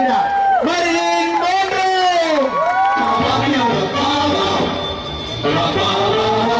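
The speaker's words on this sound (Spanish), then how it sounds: "¡Fuerte el aplauso para recibir a Marilyn" At a Taxco pride march show, a crowd cheers and applauds to welcome a performer dressed as Marilyn Monroe, a steady roar of clapping and shouting while an amplified voice calls out over it.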